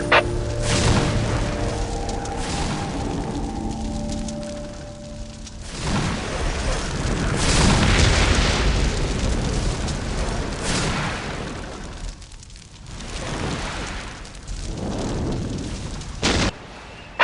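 Whirlwind artillery tank shells from Warhammer 40k: Dawn of War land in a string of heavy explosions, loud booms and rumbling blasts overlapping and rolling on with brief lulls between barrages.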